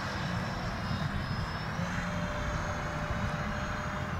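An electric ducted fan in an FF-117 RC jet runs at about half throttle, giving a steady, close, rushing whine with a faint high tone that holds level throughout.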